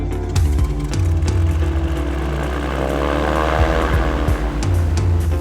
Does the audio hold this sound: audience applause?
no